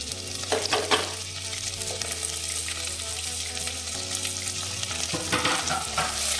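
Onion and tomato with ginger and garlic sauté in a pan for a paneer bhaji, a steady frying sizzle punctuated by scraping stirs, some clustered bursts near the start and end, with no talking.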